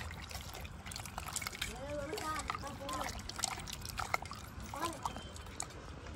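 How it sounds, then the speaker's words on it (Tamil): Tamarind is squeezed and dissolved by hand in a bowl of water for a fish curry, giving soft close splashes and sloshing under ongoing talk, with background voices. "புளியை கரைச்சிக்கிறோம்."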